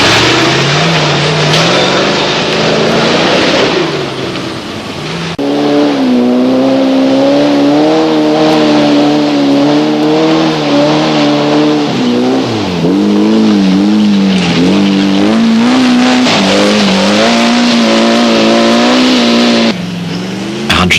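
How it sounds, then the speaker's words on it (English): A Land Rover Range Rover Special rally car at a 1987 AWDC safari event drives loudly and close, its engine revving and surging continuously with shifting pitch. "Number 76, a Land Rover Range Rover Special,"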